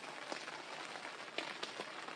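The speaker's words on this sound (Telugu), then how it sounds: "వర్షం లైట్గా పడుతుంది" Light rain falls at a campsite in the early morning, a soft, continuous patter on surfaces with a few sharper drops standing out, faint and even throughout with no one talking.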